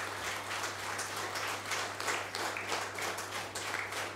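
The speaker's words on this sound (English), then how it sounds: "A huge round of applause, ladies and gentlemen." A steady wash of applause from a large audience at an auditorium corporate talk event, dense clapping that holds at an even level throughout with no voices over it.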